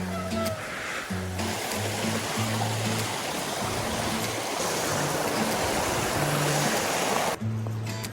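River water rushes loudly and continuously as a bikepacker rides through a riverbed in the Caucasus mountains, with a dense, close roar of flowing water and faint whining tones above it.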